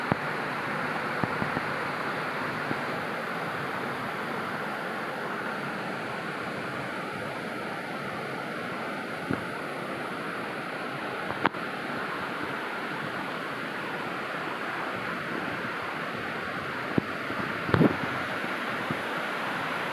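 Steady roar of a waterfall heard from the Darakondamma temple above it, a continuous broadband wash with a few faint clicks and no voices.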